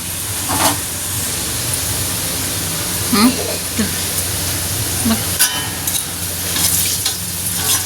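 Food frying in a pan on a home stove, a steady soft sizzle and hiss with occasional stirring scrapes and clinks, moderately close and continuous.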